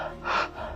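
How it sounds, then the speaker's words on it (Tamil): One sharp breath drawn in through an open mouth during a breathing exercise, a short airy gasp heard close and alone. "வாயை திறந்துட்டு மூச்சு விடுங்க"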